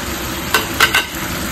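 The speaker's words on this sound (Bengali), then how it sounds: "আর যে পনিরটা রেখেছিলাম সেটা এবার এর মধ্যে দিয়ে দেবো" Paneer added to a sizzling curry in a pan with kasuri methi and oil, a steady hiss of frying broken by a few brief clattering spoon sounds, close and loud, no talking.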